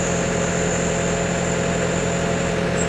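A tractor engine idles steadily on a farm alongside a sugar beet harvester, a continuous low rumble with a constant hum and no speech, close and even throughout.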